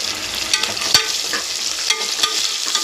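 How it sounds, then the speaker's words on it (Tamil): Coriander, onion and green chili sautéing in a pan, a continuous bright sizzle broken by several sharp scraping stirs of a spatula against the metal, close and without voices. "கொத்தமல்லி வெங்காயம் பச்சை மிளகா மிளகா எல்லாத்தையும் சேர்த்து ஒரு கிண்டு கிண்டிக்குங்க"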